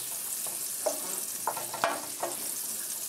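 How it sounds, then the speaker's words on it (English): A small piece of butter sizzles and fries in a pan, producing a steady close hiss broken by a few soft clicks and scrapes of stirring, with no talking. "I got a little piece of butter, and we fry a little bit together now"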